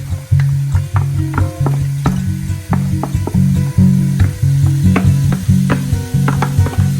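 Diced leftover London broil sizzles loudly in a pan with vegetables for a rainy-day chili, a steady close frying hiss broken by repeated scraping and stirring clatters of a utensil against the pan.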